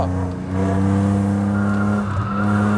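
An Alfa Romeo 156 V6 on a race track, its engine droning loud and close at steady high revs with a strong harmonic tone, pitch dipping briefly as if on a gear change, with no speech.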